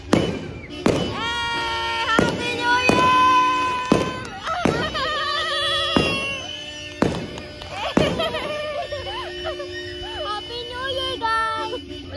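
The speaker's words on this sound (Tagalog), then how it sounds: "Nakiki-fireworks na lang po tayo sa kapitbahay." Sharp New Year's firework bangs from a neighbor's display burst repeatedly and irregularly, with overlapping crackles, while people talk and sing nearby throughout.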